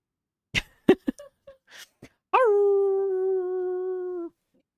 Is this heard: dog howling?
yes